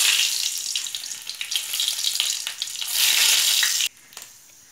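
Whole garam masala and dry red chillies crackle and fry in hot oil, a loud, close, continuous hiss that swells, then drops sharply near the end, with no voices.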